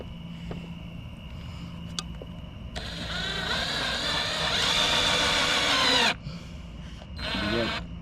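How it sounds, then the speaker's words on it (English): A power drill drives screws into a case: a loud whirring run of a few seconds stops abruptly, then a shorter burst follows, over steady background hum. "You gotta turn the drill the right way."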